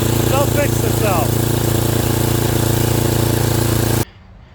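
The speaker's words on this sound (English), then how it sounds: "I gotta go through the carburetor because it's running like poopy" A firewood hauler's small engine runs rough with a carburetor fault, a loud steady close drone that cuts off abruptly near the end, with a brief voice-like sound early on.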